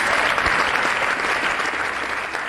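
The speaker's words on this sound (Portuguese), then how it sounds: "Aplauda mais forte ainda" Loud, dense applause from a church congregation, steady clapping filling the whole stretch without letup.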